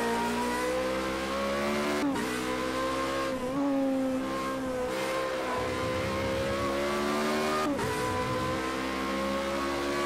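A race car in the Project CARS 2 racing game, its left-side tyres overheating, holds a steady loud engine drone with rising and falling revs and a few sharp gear-shift dips, with no voices.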